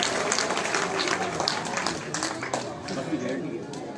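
Audience at a Punjabi political rally applauding, a steady wash of clapping and crowd noise that holds loud and near for the whole stretch.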